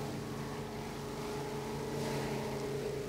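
Racing boat engine at a club race day, steady droning roar with strong harmonic tones as the propeller briefly blows out on a turn exit, continuous and fairly distant with no talk.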